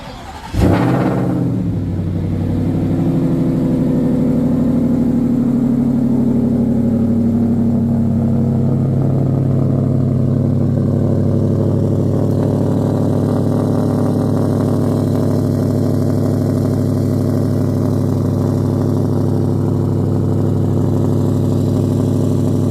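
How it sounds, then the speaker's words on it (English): A 2026 Shelby Ford Raptor R pickup cold-starts by remote start, giving a quick crank and a loud rev flare, then settling into a steady, deep, rumbling idle that stays close and loud throughout. "We're gonna do a cold start and see how it sounds."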